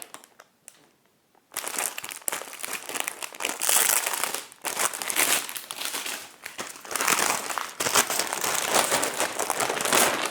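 Loud, continuous crinkling of a large 100 by 80 cm plastic vacuum storage bag with a valve being handled up close, with brief pauses.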